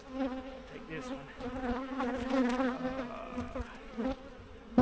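Honeybees hum around hive frames pulled during colony splitting, a close, continuous buzzing drone that wavers in pitch as bees fly past, fairly quiet, with no clear speech.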